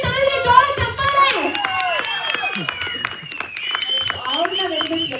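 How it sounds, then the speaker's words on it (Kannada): Applause and clapping fill a theatre at a film premiere, steady and dense throughout, mixed with crowd chatter and voices speaking over it. "ಬರ್ಲಿ ತಗೊಳ್ಳಿ ಜೋರ ಚಪ್ಪಾಳೆ"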